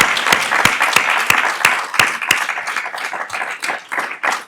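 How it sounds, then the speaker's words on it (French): An audience at a public panel on philanthropy and youth democratic engagement breaks into applause, starting with a few sharp, separate claps that quickly thicken into steady, close clapping from the whole room. "On va vous applaudir."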